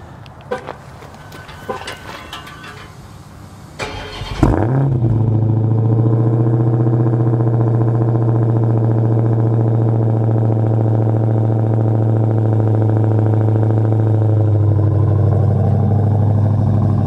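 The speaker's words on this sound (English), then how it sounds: "So I'm also going to do a quick cold start for you and get the camera down here." Dodge Challenger Hellcat fired up from cold: a few clicks and starter churn, then a sharp bark as the engine catches and settles into a loud, steady high idle that drops slightly near the end, close up with no talk.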